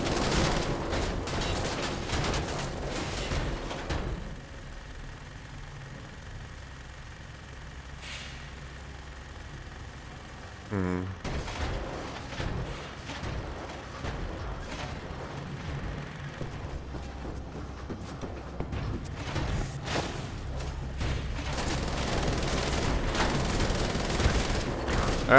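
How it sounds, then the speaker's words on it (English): Enemies open fire on the player in Wolfenstein: The Old Blood, a dense, loud barrage of overlapping gunshots and bursts that pauses briefly midway, then resumes and continues heavily to the end. "everybody's shooting me now"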